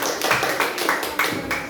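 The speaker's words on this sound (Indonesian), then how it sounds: "kasih tepuk tangan dulu" A classroom of students clapping in a short burst, several quick rhythmic claps close by, loud and without talk.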